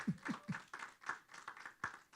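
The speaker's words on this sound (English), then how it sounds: "Let's clap for Bishop. Let's clap for him." A handful of people in a small audience clap for a speaker, about eight or nine separate, uneven claps spread out at a slow pace, quiet and close, with no talking over them.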